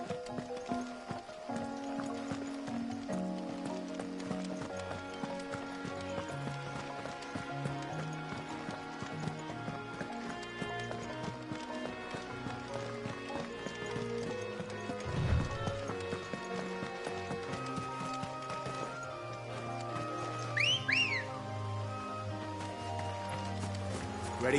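A horse gallops in the Final Fantasy XVI video game, its steady clip-clop of hooves carried under continuous game music, with a brief whinny-like accent late on.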